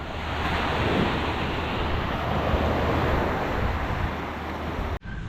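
Strong ocean waves crash and wash continuously at a cove, loud and close with heavy wind buffeting the microphone, ending abruptly with a brief dropout.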